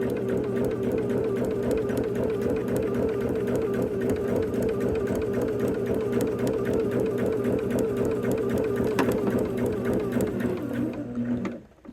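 Sewing machine stitching quilt pieces, its needle running in a fast, steady mechanical chatter with a constant motor hum for about eleven seconds before stopping abruptly.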